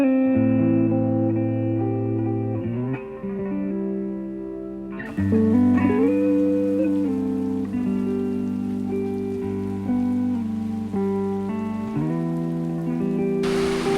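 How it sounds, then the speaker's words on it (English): Heavy rain pours down during a trek through a rainstorm toward Pokhara, Nepal: a steady, dense downpour that thickens about a third of the way in, heard alongside sustained musical tones, with no talking. "it started raining so heavily"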